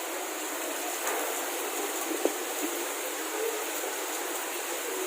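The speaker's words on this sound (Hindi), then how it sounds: "बहुत तेज है पानी तो भैया।" Heavy rainwater gushing into a house during a downpour, a constant close rushing hiss with a few faint knocks and splashes.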